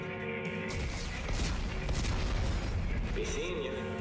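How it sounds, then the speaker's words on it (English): Explosives detonating in Dead Space 3, a heavy roaring blast that swells within the first second and sustains a loud rumbling wash of debris and crackle for several seconds. "Computer, arm explosives, and detonate."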